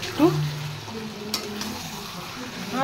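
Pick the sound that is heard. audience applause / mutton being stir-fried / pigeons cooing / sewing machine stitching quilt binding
mutton being stir-fried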